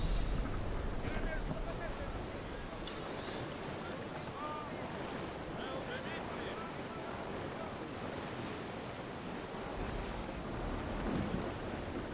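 Steady ocean surf and wind wash around a Hercules fifth-rate sailing ship in a naval game, a continuous moderate roar with a few faint higher creaks and a voice talking over it.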